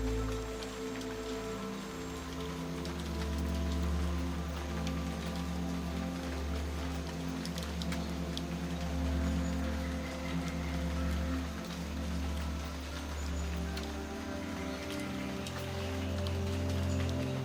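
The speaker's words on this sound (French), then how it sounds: "Cette pluie rafraîchit ton corps mais aussi ton esprit." Steady, dense rain falling on a surface, a continuous broadband wash with low rumbling underneath, no voices.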